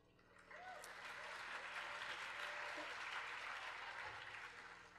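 Concert audience applause for a performance, a dense, steady wash of many hands clapping that swells in after a moment and holds at moderate loudness throughout, with faint crowd voices mixed in.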